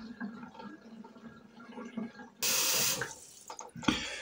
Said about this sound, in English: Let the water out from the sink.